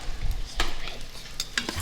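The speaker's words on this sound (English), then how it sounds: "So now we're going to stir our rice over here." Rice being stirred in a hot pan with butter melting in, scraping clacks of a utensil against metal over a soft frying sizzle, close and moderately loud.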